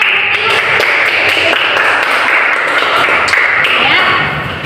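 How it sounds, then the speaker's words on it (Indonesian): Classroom of students clapping their hands, a loud, close, continuous stretch of applause that holds steady and fades slightly at the end. "Oke, boleh tepuk tangan"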